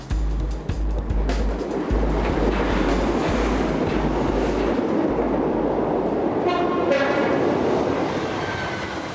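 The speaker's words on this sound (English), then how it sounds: "the bridge remains a vital transport link between Edinburgh and the north of Scotland, with over 200 trains crossing every day." A train crosses the Forth Bridge, the rail link between Edinburgh and the north of Scotland, with a loud, steady rumble of wheels and carriages close by and rhythmic rail clatter early on.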